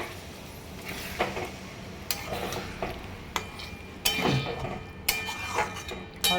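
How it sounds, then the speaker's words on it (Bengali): Water splashes into a hot cooking pan, producing bursts of sizzling and frying hiss along with scattered clinks of a utensil stirring against the metal. "এবার এতে জল দিয়ে দেবো।"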